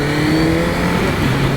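A 1998 Honda CBR 1100 XX Super Blackbird motorcycle engine revs steadily and loudly up close, a continuous sustained drone with no voices over it.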